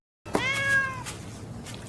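A stray cat gives one drawn-out, wavering meow close by while it is being fed, then a few softer rustles follow.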